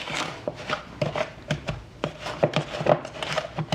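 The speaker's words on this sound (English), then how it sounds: "The pastry blender." A pastry blender cuts semi-soft pure butter into dough, giving a steady run of close, crisp chopping and scraping strokes, roughly two to three per second, with no talk.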